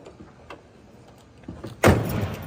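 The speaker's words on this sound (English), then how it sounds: "Doors close nicely." A door slams shut with a solid thud on a muscle car fitted with a 512 stroker engine and shaved door handles, one loud close following some faint clicks and handling sounds.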